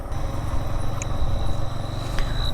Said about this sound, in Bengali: এখানে পুরো স্পষ্ট কানে বাজতেছে ঝিঝি পোকার ডাকগুলা